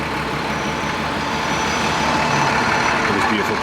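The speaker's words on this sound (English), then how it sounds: "DML 41424, a former first bus Marshall capital Dennis Dart." Dennis Dart bus engine idling, a former First Capital bus, a loud steady diesel rumble close by with no break in the sound.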